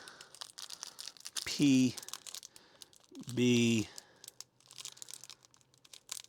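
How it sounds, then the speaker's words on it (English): Small plastic bags from a large-scale Agora Models Optimus Prime kit are handled with soft, close crinkling, crumpling and tearing in two louder bursts separated by quieter rustles, while someone talks briefly. "I'm getting rid of little plastic bags"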